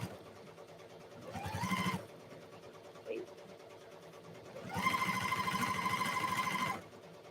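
A fast sewing machine stitches down fabric ruffles in two runs, a short burst followed by a longer steady whirring stretch, close and clear.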